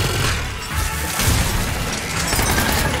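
Heavy gunfire and explosions rage in the action video game Citadel, a loud, dense barrage of booms, crashes and rattling shots with no pause.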